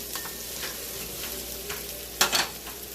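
Chicken liver and onion frying in a pan, a steady soft sizzle with a brief louder burst of stirring near the end, no voices.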